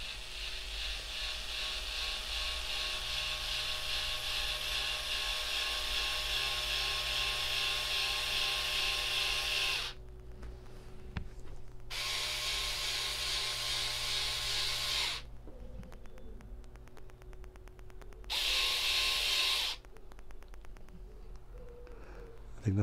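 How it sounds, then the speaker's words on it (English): An electric screwdriver spins wire taped to its end, twisting strands for a homemade mains filter; a steady high motor whine runs in long stretches, stopping briefly twice and then resuming. "This end I've taped to this electric screwdriver."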